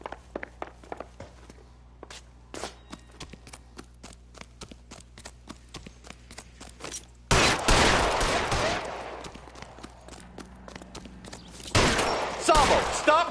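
Gunfire in a film scene: sharp shots and rapid clattering bursts, first as scattered cracks, then heavy sustained fusillades, with shouting voices in between.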